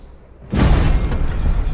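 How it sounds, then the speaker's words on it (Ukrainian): A single heavy tank cannon blast in the video game Call to Arms Panzer Elite booms suddenly after a quiet moment, followed by a loud rumbling roar that lingers. "Стріляю в бокову проекцію"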